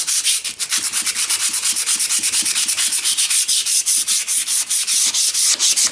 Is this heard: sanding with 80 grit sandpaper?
yes